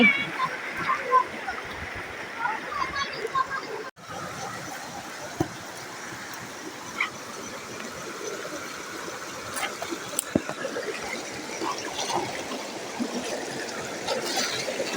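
A large hillside stream rushes and splashes continuously nearby, a steady watery wash with scattered sharper splashes and faint voices in the background.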